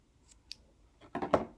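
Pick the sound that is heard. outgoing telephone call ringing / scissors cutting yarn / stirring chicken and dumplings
scissors cutting yarn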